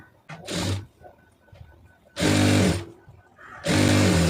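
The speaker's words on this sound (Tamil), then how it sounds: "அந்த அளவு அப்படியே வச்சு ஒரே தையல்லே ஓட்டிடலாம்" A sewing machine stitches a blouse hem in three loud, sustained runs of whirring motor drone, separated by quieter gaps with faint handling sounds.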